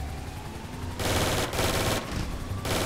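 Sustained machine-gun bursts from a GTA V shootout during the Cayo Perico heist, loud and dense, with firing breaking briefly between several rapid volleys.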